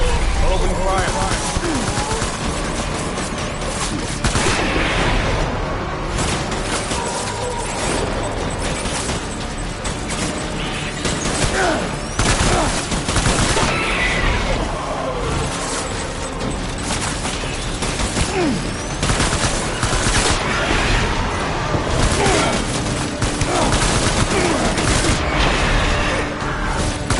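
Sustained gunfire after an order to open fire, with booming shots and clattering mechanical bursts running steadily for nearly half a minute, loud and dense, mixed with voices talking.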